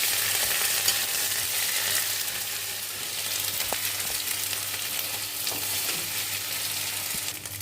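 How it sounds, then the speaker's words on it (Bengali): Onion fried until reddish-brown sizzles in a pan with ginger-garlic paste for ghugni, a dense steady crackle with occasional clicks of stirring, close and continuous without any talking. "পেঁয়াজটাকে লাল লাল ভাজা হয়ে গেলে আমরা এতে দিয়ে দেবো আদা রসুন পেস্ট"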